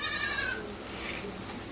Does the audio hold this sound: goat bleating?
yes